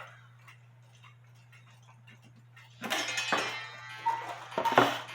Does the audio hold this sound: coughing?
no